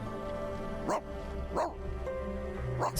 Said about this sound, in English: Yeah, that was the dog.